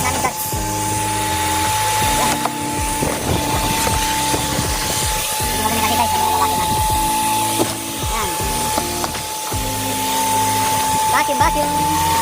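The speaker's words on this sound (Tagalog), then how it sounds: "Napakadali maglinis pag may vacuum." A vacuum cleaner runs with a steady high whine while a car interior is cleaned, the motor droning continuously underneath talking and busy background sounds.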